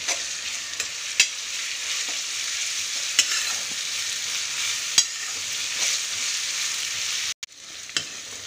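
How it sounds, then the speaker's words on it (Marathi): Ginger-garlic paste fries in a pan after onions, giving a steady bright sizzle with occasional spoon clicks and scrapes, close up and uninterrupted by voices. "आता आपण अद्रक लसूणची पेस्ट टाकूया. ही पण व्यवस्थित परतून घेऊया."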